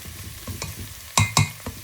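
Onions and garlic frying in a pan for a Sylheti-style fish curry, a low steady sizzle broken by a few sharp scraping stirs, with two loud clanks close together near the end.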